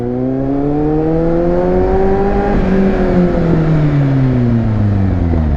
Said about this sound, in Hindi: इसकी आवाज़ ना बता रहा हूँ, बिल्कुल ऐसे लगती है कि जैसे Z800 चल रही है